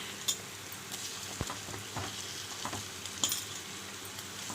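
Salted, spiced fish pieces for fish pulusu are laid out in a pan, with a faint, steady sizzle broken by light clinks and taps as each piece is placed, and no talking.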